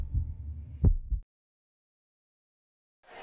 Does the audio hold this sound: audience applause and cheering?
no